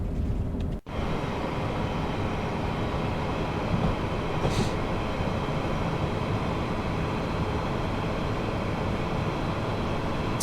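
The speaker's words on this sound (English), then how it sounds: "it's the only Desiro train that runs on diesel that we have in the game." A Siemens Desiro DB BR 642 diesel multiple unit in a train simulator game gives a continuous, loud rolling rumble. A brief dropout comes near the start, and a faint higher-pitched hiss rises midway.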